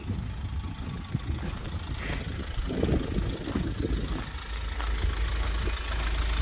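A black-edition Mahindra Pikup S11 pickup truck on the move, heard from inside the cab as a low, steady engine and road drone with a few small bumps and rattles, no talking.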